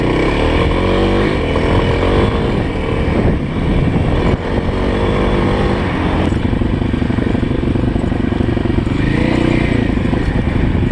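Kawasaki KLX 351 motorcycle ridden on a rough back road, its single-cylinder engine buzzing loud and close without a break, throttle rising and falling, with rattling clatter from the bike over bumps.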